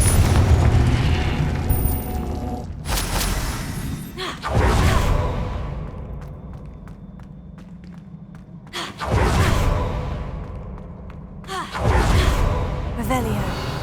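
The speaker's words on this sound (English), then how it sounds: "Confringo!" Confringo blasting spell explosions in the Hogwarts Legacy video game: several loud booming blasts with whooshing bursts, recurring every few seconds, with a spoken voice over the game audio.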